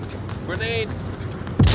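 Grenade blast in the VR shooter Onward VR, co-op evac mode near red brick warehouses: a sudden loud, close boom at the very end, with voices talking and game noise underneath.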